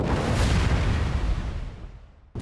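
A loud, rumbling explosion from the video game Satisfactory, with a broad roaring burst that slowly fades out over two seconds before a brief new blast cuts in at the end.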